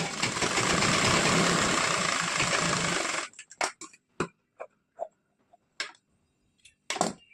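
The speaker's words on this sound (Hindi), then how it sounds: "हमें आधे इंच इस तरह से सिलाई लगाना है" A sewing machine runs in a steady loud burst while stitching a blouse seam, then stops and gives way to a string of short separate clicks and taps.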